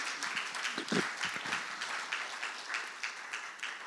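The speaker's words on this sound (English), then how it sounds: "I like us to give her a round of applause" Round of applause from an audience at a panel discussion, steady dense clapping at moderate level that carries on throughout with no voices over it.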